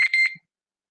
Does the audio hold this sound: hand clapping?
no